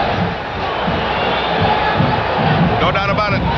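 A boxing arena crowd of 16,000 roars loudly and steadily at the Duran vs Cuevas fight, a dense wash of cheering and shouting that swells slightly toward the end, with voices mixed in.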